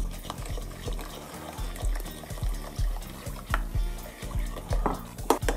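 Thai sweet chili sauce thickened with a cornstarch and water mixture is stirred in a pot, giving repeated rhythmic scraping and liquid sloshing strokes, fairly close and clear.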